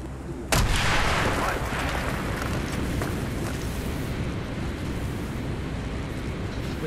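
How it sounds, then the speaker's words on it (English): An explosive charge blows a hole in a wall in Call of Duty Black Ops, hitting as one sudden, loud blast followed by several seconds of sustained roaring rumble and debris noise. "Mason, blow a hole in that fucking wall."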